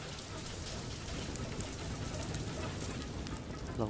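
Steady heavy rain with hail pours down without a break in the video game Far Lone Sails, a dense hiss with faint pattering on top and no voices.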